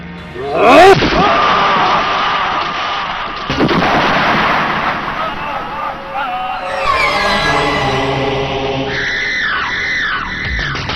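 Gunfire in a Haryanvi action film scene: a loud, close burst of shots with booming impacts, mixed with screaming and dramatic background music that continues throughout.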